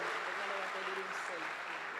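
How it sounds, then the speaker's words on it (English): A forum audience gives Sophia a round of applause, a brief, steady wash of clapping lasting about two seconds at moderate distance. "great round of applause for Sophia"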